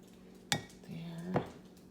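A spoon stirs thick sweetened condensed milk and whole milk in a bowl for a tres leches cake, making two sharp clinks against the bowl with soft scraping between them, close and fairly quiet.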